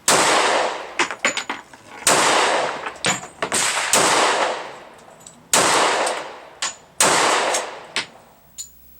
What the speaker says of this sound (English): I'll show you the 45 and how the 45 shot